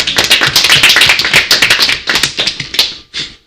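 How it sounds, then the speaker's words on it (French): Close, loud clapping from a small group at a student association campaign event, a quick uneven patter of hand claps lasting about three seconds before it stops, with no talk over it. "je pense qu'on peut vous applaudir"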